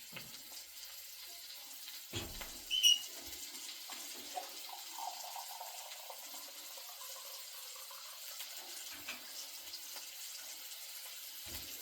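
Water runs from the tap of a hot water tank, drawn to thaw out a fridge that has frozen in cold weather; a steady, faint splashing hiss continues throughout, with a brief knock near the start.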